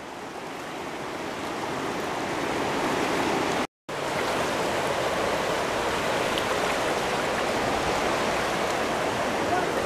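A river flows steadily on a fishing outing, a broad, constant rush of water that stays loud and even throughout, broken only by one very short dropout.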